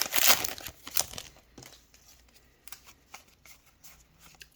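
A WARS TCG booster pack is torn open and its cards shuffled, with loud crinkling wrapper and rapid card riffles at the start, then scattered softer card flicks and slides close by.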